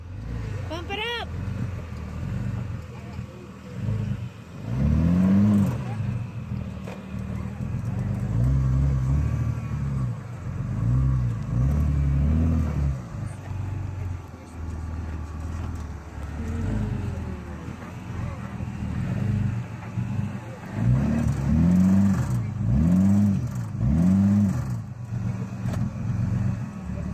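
An off-road vehicle revs its engine on the rough backroad to Crown King, with repeated surging bursts of throttle swelling and falling close by while people talk over it.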